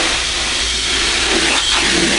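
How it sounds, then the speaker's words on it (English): Water spraying steadily to rinse a screen-printing screen after haze remover, a continuous close broadband hiss with slight shifts as the spray moves across the mesh. "I'll flood it out and rinse it out just to clean off excess chemicals."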